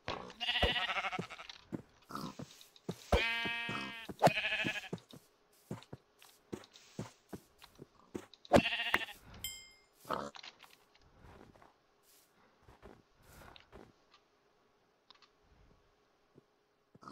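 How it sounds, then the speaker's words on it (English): Sheep bleating in Minecraft, heard as a few short calls among game sounds and clicks, with quiet stretches in between. "Some sheep."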